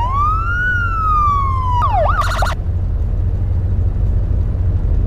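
A police car siren from a Need for Speed police car mod in Garry's Mod gives one long rising-and-falling wail. A quick burst of yelping chirps follows, then the siren cuts off, leaving a low engine rumble.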